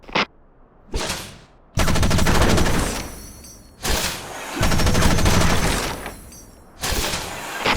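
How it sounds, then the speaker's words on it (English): Bursts of Wanzer mech machine-gun fire at pop-up targets in Front Mission Evolved, several loud rapid-fire volleys separated by short pauses, with sharp metallic clatter and no talking. "Remember to fire your machine gun in bursts to avoid overheating."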